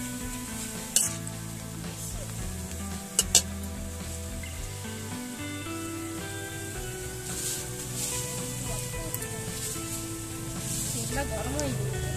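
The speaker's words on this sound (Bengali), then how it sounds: "রান্নার আগে আমি পাঁপড়টা ওদের একটু ভেজে দিই" Papad frying in hot oil in a pan gives a steady crackling sizzle through the whole stretch, running under voices and other household sounds.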